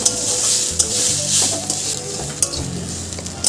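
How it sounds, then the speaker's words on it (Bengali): Raw rice and spices fry in a pan for vegetarian chal potol, a bright continuous sizzle broken by repeated scraping strokes of a spoon stirring close to the mic. "এবার আমি মশলাগুলো সমেত চালটা ভালো করে ভাজতে থাকবো।"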